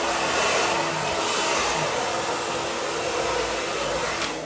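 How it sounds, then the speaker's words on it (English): A hair dryer blowing conditioner dry into hair, a loud, close, continuous whooshing roar with a steady motor hum running throughout, no talk. "I'm literally just going to dry this into my hair"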